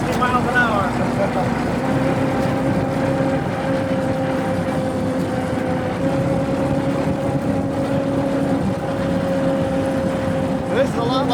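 Steady low drone of a 1915 Hispano Suiza powered by an 18.5-liter V8 World War I aircraft engine, cruising at low revs around 60 mph, with a constant rumble and faint tonal hum under intermittent talk.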